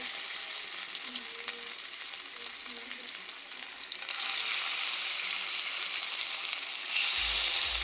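Pieces of taro fry in a little oil over a low flame, giving a steady broadband sizzle that grows louder and denser partway through and again near the end, with no talking.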